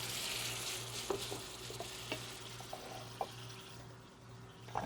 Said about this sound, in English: Now I'm going to add some wine here. I'm going to deglaze the pan.